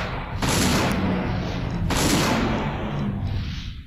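Gunfire in the PS1 game Dino Crisis 2 on hard difficulty: two loud, broad blasts about a second and a half apart, each with a long rumbling tail, alone with no talk over them.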